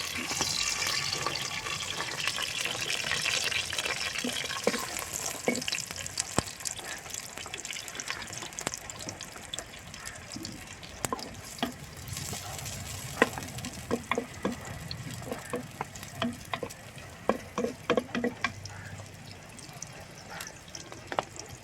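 Onions frying with fennel seeds in a clay pot over a wood fire, a steady low sizzle with frequent stirring scrapes and taps, fairly quiet and continuous, with a faint voice now and then.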